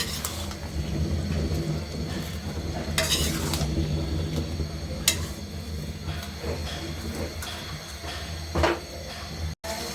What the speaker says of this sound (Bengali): পাতাকপিগুলো দিয়ে দিলাম, দিয়ে ভালো করে আমি আরো 20 মিনিট কষিয়ে নেব।